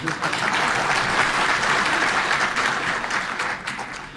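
An audience at a public speech claps in a dense, steady burst of applause that stays loud and even for about four seconds, with crowd murmur underneath.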